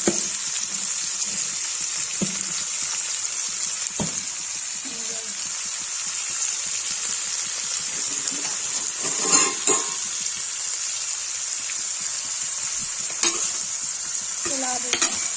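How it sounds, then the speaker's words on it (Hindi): Spiced potato and cauliflower frying in a pan, a loud, constant hiss of sizzling oil with occasional scrapes and knocks as the mixture is stirred and tossed. "चला देंगे ऐसे नमक ऊपर नीचे हो जाएगा।"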